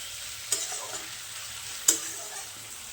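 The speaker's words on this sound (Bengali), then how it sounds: "বেগুন আর আলুটা দিয়ে দিচ্ছি" Eggplant and potato pieces frying in a pan of oil for a village-style fish curry, a steady low sizzle with two sharp scraping stirs of a spatula against the pan.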